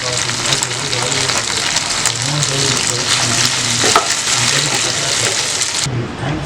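Chicken 65 made from boneless chicken breast is stirred in a frying pan, giving a loud, steady sizzle with scraping utensil strokes throughout, cutting off abruptly near the end.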